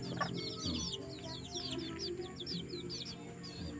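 Thin, rapid peeping and soft clucking rise from a flock of purebred jungle fowl, a continuous chatter of short chirps at moderate distance over a constant low rumble.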